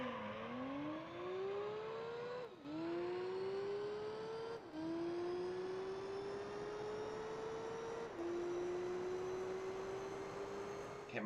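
Mazda Savanna RX-7 engine in Gran Turismo 3 revving high and loud, its pitch climbing steadily through each gear before dropping briefly at three shifts, a continuous close whine with no talk.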